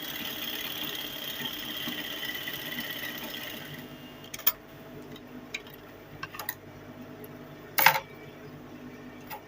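A sewing machine stitching fabric pieces for a cape-collar crop top, a steady mechanical whir that stops partway, followed by scattered clicks and a sharp clack near the end.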